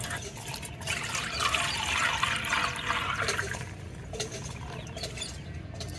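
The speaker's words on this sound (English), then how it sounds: "So we are passing it through a sieve to get rid of particles" Milk poured through a sieve, a steady liquid splashing and trickling stream that swells for a few seconds and then thins, close by and alone.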